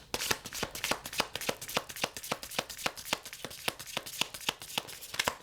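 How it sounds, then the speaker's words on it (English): A deck of tarot cards being shuffled by hand, with a fast, even run of close riffling snaps and taps repeating throughout, no talking. "These cards be shuffling, ain't it?"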